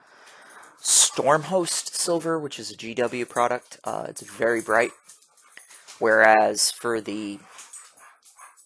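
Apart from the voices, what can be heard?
dogs wrestling behind the speaker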